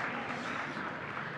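An audience at a Telugu spiritual discourse applauding to welcome the speaker, soft, even and continuous clapping heard from a distance.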